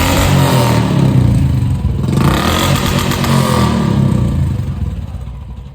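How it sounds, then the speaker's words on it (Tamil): A Royal Enfield Classic 350 motorcycle idles and revs close by, its exhaust note a loud, steady, thumping rumble that holds for several seconds and then fades slightly at the end. "இப்போ வண்டியோட எக்ஸாஸ்ட் நோட் எப்படி இருக்கு?"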